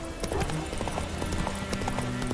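Roach the horse's hooves clip-clop in a video game, a steady trotting rhythm of hoof strikes at moderate distance over soft ambient game sound, with no talking.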